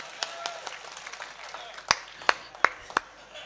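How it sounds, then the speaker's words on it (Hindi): At a Hindi poetry gathering in Bareilly, a few audience members clap sparsely. Several soft claps are followed by four sharper, louder ones, scattered against a quiet hall murmur. "ताली वाली बजाओ यार एक बार"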